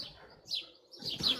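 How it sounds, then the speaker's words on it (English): Birds chirp outdoors on a warm morning in a few short, bright bursts, with a gap of relative quiet between them and faint low background rumble. "You can hear the birds chirping."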